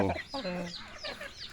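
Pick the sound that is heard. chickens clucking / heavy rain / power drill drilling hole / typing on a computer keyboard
chickens clucking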